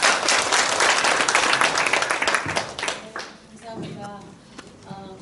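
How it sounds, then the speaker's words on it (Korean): Audience applause closing a policy debate forum on fair wages, a dense burst of clapping that fades after a few seconds as a voice begins speaking over the tail end. "박수로 마치겠습니다"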